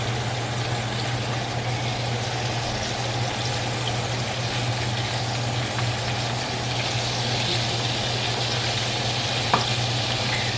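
Food frying in a pan for a weeknight dinner, a steady even sizzle lasting the whole stretch over a constant low hum, with one faint click near the end and no talking.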